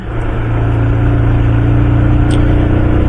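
A motorbike climbs the uphill road toward Darjeeling, its engine droning steadily and close with a low, even hum that builds slightly as it pulls up the slope.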